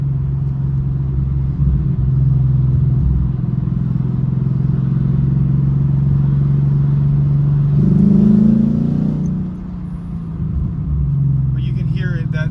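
A Ford Mustang fitted with a Steeda cold air intake idles with a low, steady rumble, then revs briefly around the middle before settling back to idle, heard up close.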